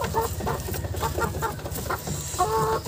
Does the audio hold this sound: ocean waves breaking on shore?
no